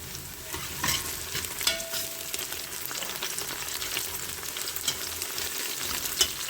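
Onions sizzle and fry in a pan at close range while a spoon scrapes and stirs them, giving a steady crackle broken by a few louder scraping clinks, with no voices.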